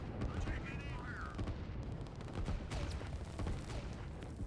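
Gunfire and artillery fire in a real-time strategy battle, with rapid crackling shots and dull booms forming a steady, busy barrage while a voice talks over the fighting.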